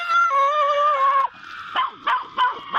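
A dog outdoors at a house with an open garage lets out a long wavering howl-like whine, then a few short, sharp barks in quick succession, fairly close and clear.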